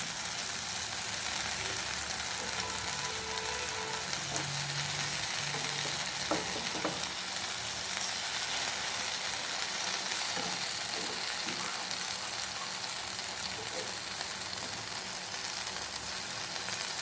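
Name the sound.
frying onions in pan for paneer pizza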